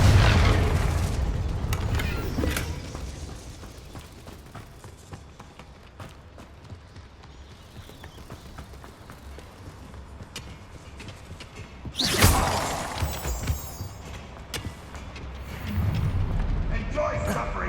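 Confringo fire spell explosions in Hogwarts Legacy, a few loud bursts and booms, one sharp blast standing out midway, among game effects and movement sounds with occasional voices.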